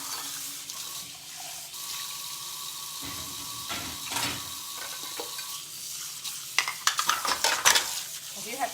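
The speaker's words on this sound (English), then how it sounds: "I'm going to dump everything into my empty dishwasher." Dishes and utensils are dumped into an empty home dishwasher: a steady watery hiss runs throughout, with a burst of sharp clattering clinks near the end, close by and with no talking.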